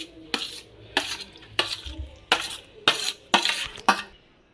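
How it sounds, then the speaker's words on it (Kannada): Mustard seeds, asafoetida and curry leaves hit hot oil in the same frying pan used for roasting, making about seven sharp sizzling bursts at a steady rhythm with quieter gaps between them. The pan is close and nobody speaks. "ಅದೇ ಬಾಣಲೆಯಲ್ಲೇ ಸಾಸಿವೆ, ಇಂಗು, ಕರಿಬೇವು ಆ ಬಾಣಲೆಗೆ ಹಾಕ್ಕೊಂಬಿಡೋಣ."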